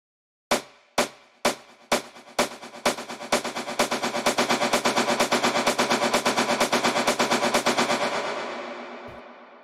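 A music loop run through sidechain compression in Reason: sharp percussive hits start slowly and speed into a dense, pumping rapid-fire pattern, then fade out with a final lone hit.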